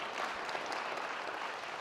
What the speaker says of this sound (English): Clap your hands now for me if you think tech companies are part of the problem